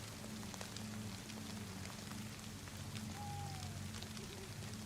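Rain falling in the video game DayZ, a steady, soft hiss of rain on surfaces with a low background hum and one faint tonal squeak.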